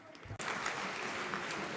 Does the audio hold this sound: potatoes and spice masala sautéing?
no